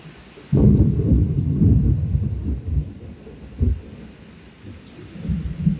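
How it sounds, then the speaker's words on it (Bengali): Loud thunder cracks open and rolls heavily during a rainstorm in Sylhet, followed by further rumbles that fade and return, with rain hissing steadily underneath. "আকাশের বিজলি এবং আকাশের গর্জন আপনারা শুনতে পাচ্ছেন।"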